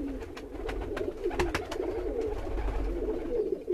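Teddy pigeons, a pair with a newly hatched chick, coo softly and repeatedly at close range, with a few sharp clicks or taps mixed in over a low background hum.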